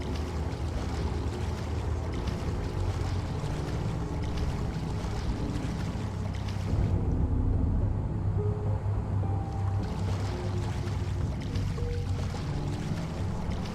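Continuous rushing and sloshing of freezing water in the video game The Fidelio Incident, a steady dense wash that briefly dulls and deepens midway.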